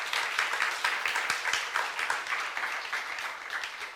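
A church congregation at a youth service claps together, a steady, fairly soft patter of many hands that tapers slightly toward the end, with no talk over it.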